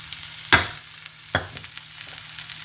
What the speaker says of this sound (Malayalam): പാനിലേക്ക് ഞാൻ പൊടികൾ ആഡ് ചെയ്ത് കൊടുക്കുകയാണ്